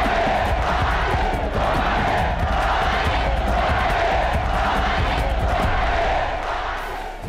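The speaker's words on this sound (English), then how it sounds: "Muhammad got that Ali bumaye chant going right from the get-go" Huge arena crowd at a Muhammad Ali fight in Kinshasa chants "Ali bumaye" in a loud, steady, rhythmic roar of massed voices, sustained throughout and fading slightly at the end.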